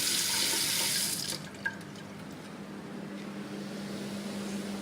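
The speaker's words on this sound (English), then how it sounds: "Now we want to add a little bit of water." A kitchen tap runs steadily into a container, filling it with water for a chicken curry, a continuous rushing hiss that drops and eases after about a second and a half and then trickles on quietly.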